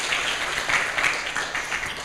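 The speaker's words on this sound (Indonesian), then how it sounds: "Yang bersyukur berikan sorak-sorai bagi Allah." Church congregation at a Sunday worship service cheering and applauding, a steady dense wash of clapping and voices lasting throughout without a break.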